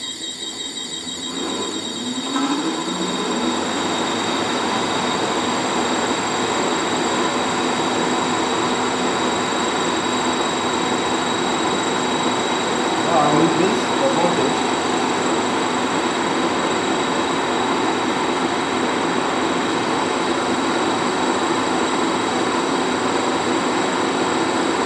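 Induction motor running unloaded during a no-load test, a loud continuous hum and whine that rises briefly at the start and then holds steady and unbroken throughout.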